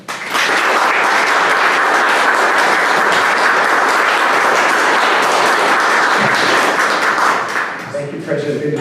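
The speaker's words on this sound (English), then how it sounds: "please give a round of applause for Dr." An audience at a university engineering building ribbon-cutting claps loudly and steadily for several seconds, the dense applause tapering off near the end as a voice begins speaking.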